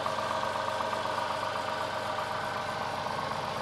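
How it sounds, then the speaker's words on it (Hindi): A car engine idles steadily at close range after an oil change and filter service done at home, a continuous even hum with a faint rhythmic pulse and no talking. "थोड़ी देर इसको आइडियल पे ही चलने देंगे हम्म।"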